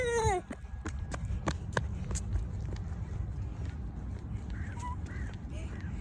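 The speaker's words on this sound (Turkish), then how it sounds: "Tavus kuşu burada." A peacock at a seaside park in Moda calls in loud, sharp honking cries, several in a row, against outdoor background noise, with no talking heard.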